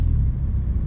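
A boosted Honda Accord engine running on a dyno gives a loud, close, low rumble that holds steady through a brief burst with no voices.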